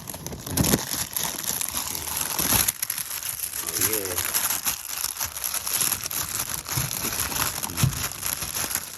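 Clear plastic bag crinkling and rustling as it is wrapped over fresh young ginger, with close, irregular crackly bursts throughout and someone talking over the handling noise.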